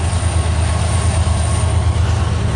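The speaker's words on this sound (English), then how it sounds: "Alright guys, here's train number 8." CN M385 freight train passing through Port Huron, a loud, close, continuous rumble of rolling railcars with a high whine on top, with no talking.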